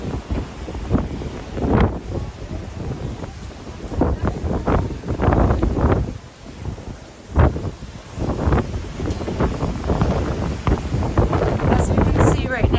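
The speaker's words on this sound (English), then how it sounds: "But it's really windy." Strong wind at an oceanfront beach at Jupiter Beach Resort, gusting and buffeting the microphone in rough, uneven surges over a constant roar, with a person talking intermittently underneath.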